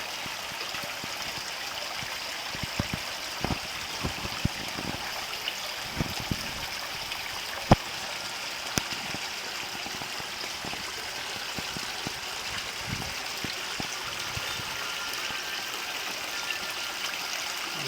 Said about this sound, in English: The north waterfall coming into the pond, still running very slowly.